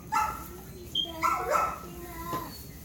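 A dog outside barks and whines for attention in a series of short yips and whimpers at moderate distance, under a person talking.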